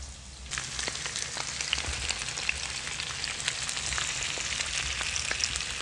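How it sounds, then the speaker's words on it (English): Salmon is added to a pan of heated garlic and onion and sizzles in a dense, steady crackle. Fine pops continue close and constant after a quieter first half second. "once you got the garlic and the onion heated up a little bit, we're just going to add our salmon"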